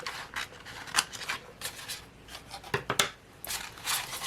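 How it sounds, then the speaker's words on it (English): Scissors snip along a line while making DIY room decor, giving a string of close, short rasping cuts with brief pauses, heard alone without talk. "let's cut this last little line here"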